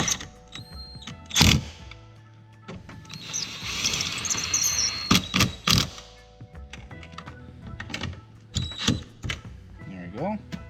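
Ratchet clicks in short bursts while tightening the replacement side mirror on a 1999–2007 Chevy Silverado, close and moderately loud, with a person talking over parts of it.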